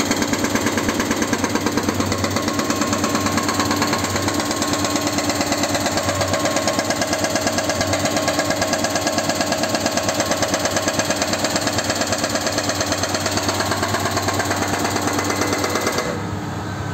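A backhoe engine runs hard while digging a deep excavation, a loud continuous diesel clatter with rapid knocking pulses and steady rumble throughout, easing off slightly at the very end, with no speech.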